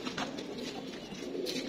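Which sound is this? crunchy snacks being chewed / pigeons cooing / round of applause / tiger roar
pigeons cooing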